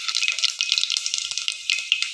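Brinjal and onions frying in oil, a close, steady hiss of fine crackling bubbles throughout.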